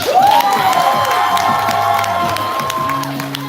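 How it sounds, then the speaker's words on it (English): An audience at a live spoken-word poetry show cheers, whoops and applauds a performer, a loud, dense wall of crowd noise with shouts rising above it throughout. "Keep clapping for that artist."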